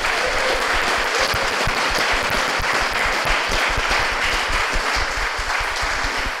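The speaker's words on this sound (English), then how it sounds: "So let's give them a round of applause." Audience at a live wild clay panel applauding: dense, sustained clapping from a sizable crowd, steady and loud throughout with no break.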